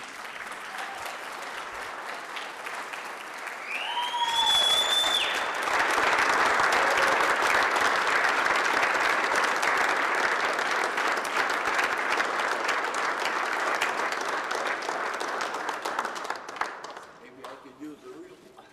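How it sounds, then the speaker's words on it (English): Audience applause for Coach Curt Fredrickson at a Northern State University women's basketball press conference, a sustained wash of clapping lasting about twelve seconds before tapering off, with a brief voice just before it starts. "let's give a big round of applause for Coach Curt Fredrickson"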